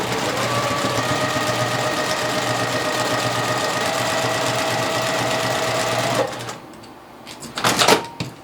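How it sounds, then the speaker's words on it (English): A sewing machine runs steadily for about six seconds, a close, fast mechanical whir and chatter as it stitches quilt block seams, then stops, followed by a couple of brief handling clicks. "I'll send this through the sewing machine"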